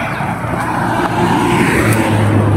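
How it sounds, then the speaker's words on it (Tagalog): A car passing on a quiet road on a Sunday evening, a loud, close engine and tyre roar that builds steadily as it goes by. "kaunti yung sasakyan na dumadaan ngayon"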